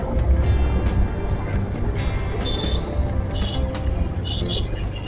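A group of motorcycles lines up at the start of an Independence Day ride from Dhulagarh toward Nabanna. Engines give a steady, dense low rumble that fills the clip, with faint voices mixed underneath.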